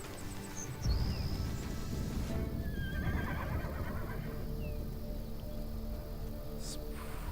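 A horse neighs in a video game, a loud whinny rising near the start and trailing off over a steady ambient bed with faint rustling.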